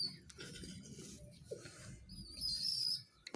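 During hand feeding, a baby bird chick gives high, thin chirps and cheeps against a soft, shuffling, close-up background. The chirping grows brighter toward the end of the short clip.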